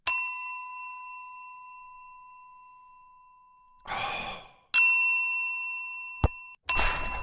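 A desk bell dings three times, each bright metallic ring sharp at the start and then fading slowly. Breathy sighing noises fill the gaps between the rings.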